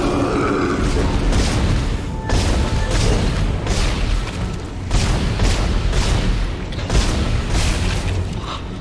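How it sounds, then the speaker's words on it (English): Plasma gun shots in Dead Space, a dense run of loud, heavy booming bursts layered over a roaring game soundscape, with no talk over them. "I'm just using the plasma gun."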